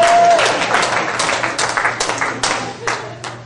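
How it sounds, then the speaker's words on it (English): An audience applauds at a comedy stand-up performance, dense clapping that starts full and gradually thins into scattered individual claps, with a low steady hum underneath. "Round of applause for our business banking officer."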